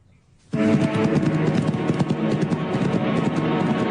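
Horses' hooves clip-clop in a rapid, continuous rhythm, starting abruptly and staying loud and close, with a steady backing of dense, mid-toned sound throughout.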